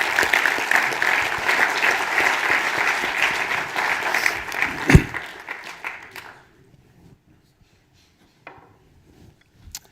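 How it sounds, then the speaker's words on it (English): An audience at an engineering institution's president's address gives the speakers a round of applause, dense clapping for about five seconds that fades out into near silence, with a few stray claps after. "let's have another quick round of applause for our speakers today"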